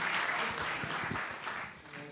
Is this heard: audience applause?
yes